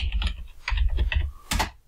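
Rapid, close clatter of keys being typed on a computer keyboard, with uneven bursts of clicks and heavier thumps running through the whole stretch.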